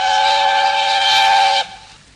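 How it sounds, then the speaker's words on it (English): A steam locomotive's whistle sounds loud and steady on a railway line, a bright sustained tone lasting about a second and a half before cutting off sharply. "Presently, he heard a whistle."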